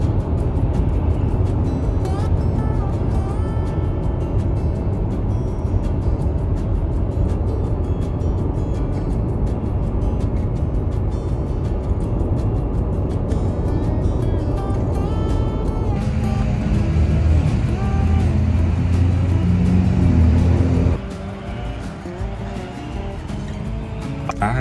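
A 20-year-old van driving on the road, giving a loud, steady interior drone of engine and tire noise with a shift in tone partway through, then dropping as it slows near the end, with no talk.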